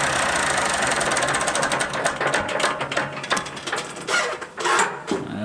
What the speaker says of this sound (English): pull your fuel cut off,